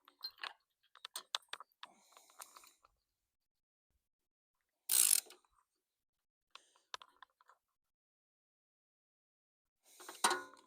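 A ratchet snugs a spark plug into a mower engine with quick, faint clicking runs, short pauses and a couple of sharper ratcheting bursts in an otherwise quiet space.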